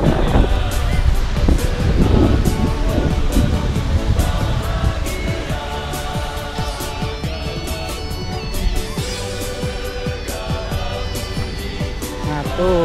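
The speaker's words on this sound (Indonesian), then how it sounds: "Aldo, kita jalan-jalan di Pantai Kuta Bali" Blustery wind buffets the microphone while surf rolls steadily in the background at Kuta Beach, Bali, loud and continuous, with faint voices mixed in.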